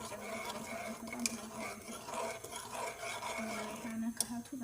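A stew being stirred in a cooking pot, with a steady scraping and swishing of the spoon against the pot and occasional sharper clinks, close and moderately loud with no talk.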